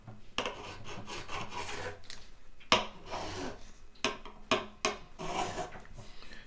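Abrasive rubbing on the tarnished frets of a Yamaha FG445 acoustic guitar, a series of short scratchy rasping strokes in an uneven rhythm, close and fairly quiet, with no talking.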